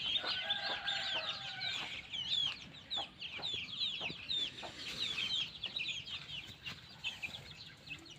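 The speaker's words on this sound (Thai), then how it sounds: "ดูไก่แจ้" Several bantam chickens cluck and chatter close by in quick, overlapping calls, with scattered soft knocks and rustling underneath.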